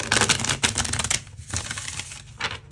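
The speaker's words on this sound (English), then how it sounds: "One more shuffle." A brisk riffle of tarot cards being shuffled, a dense rapid flutter of papery clicks close by, pausing briefly before resuming.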